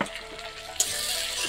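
Garlic, ginger and green chilli paste hits a hot pan and sizzles, a soft steady frying hiss that jumps louder and brighter partway through as the paste lands.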